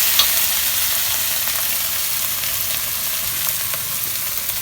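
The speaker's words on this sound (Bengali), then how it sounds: "এখন এটাকে একটু" Fish curry with tamarind and spices frying in a pan, a steady close sizzle with faint stirring scrapes and no talking.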